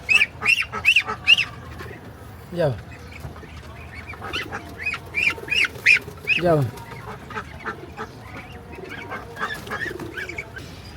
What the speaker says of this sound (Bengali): ওদেরকে বের করার জন্য আমি ঢুকে যাবো হাঁসের ঘরে